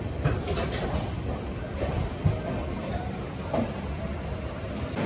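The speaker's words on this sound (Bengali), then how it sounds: "প্রায় 20 মিনিট আগে আমাদের ট্রেন ঢুকে গেল কিন্তু কলকাতা স্টেশন।" Sairang Kolkata Express train rolling into Kolkata station, a steady low rumble of wheels and carriages with faint clanks and a few soft knocks, fairly loud and continuous throughout.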